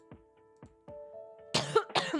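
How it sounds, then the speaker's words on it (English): A person coughs several times during a livestream. Three or four short, dry coughs come close to the microphone and are spaced evenly. Two harsher, louder coughs follow, one right after the other. "I didn't realize I was going to start coughing the second I started talking today."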